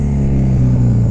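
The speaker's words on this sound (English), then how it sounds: "Revved it up to 6K." A 1972 Yamaha XS2 650 parallel-twin motorcycle engine revs loud and close, a thick, steady growl with a slight rise and dip in pitch and no voices.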